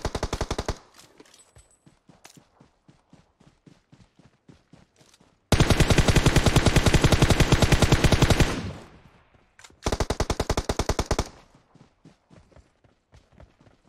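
Rapid automatic gunfire from PUBG Mobile on the Sanhok map, with a run of spaced single shots followed by two long, loud, dense bursts separated by a short pause.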